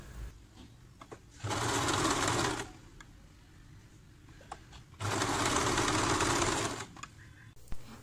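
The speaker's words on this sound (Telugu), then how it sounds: "ఇప్పుడు మనం కట్ చేసుకున్న క్లాత్ ని ఇలా ఫోల్డ్ చేసుకుని ఒక జిగ్జాగ్ కుట్టు వేసుకుందాం." A sewing machine stitches a zigzag seam on folded cloth in two steady bursts of rapid whirring, each lasting a couple of seconds, separated by quiet pauses with faint handling noises.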